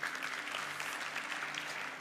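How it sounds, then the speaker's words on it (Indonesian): Congregation applauding during an Indonesian church sermon, a brief, dense and steady burst of clapping from many people at moderate distance. "Kasih tepuk tangan buat Tuhan."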